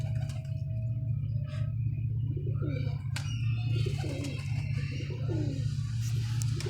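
Domestic pigeons kept at home coo in soft repeated rolling calls over a steady low mechanical hum, with a few faint chirps nearby.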